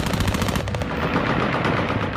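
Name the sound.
celebratory gunfire by Taliban in Kabul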